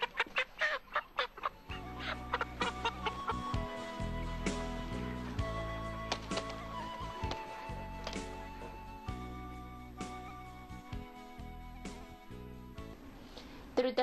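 Chickens cluck and squawk in agitated bursts as they are caught at a poultry farm in cool evening weather, close and persistent, with sharp calls over a busy background.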